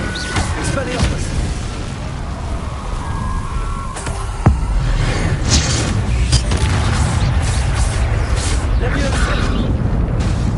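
An Expelliarmus disarming spell in the Hogwarts Legacy game: a sharp crack partway through amid busy booming combat noise that carries on steadily around it, with voices present.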